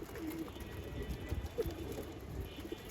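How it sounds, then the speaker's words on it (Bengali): Racing pigeons cooing at a loft, soft low coos repeating close by over quiet background hiss. "এই আরেকটা আইছে কবুতর"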